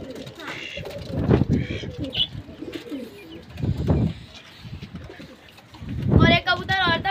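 Pigeons coo softly in bursts close by, mixed with rustling and flutters, while a person talks over them at times.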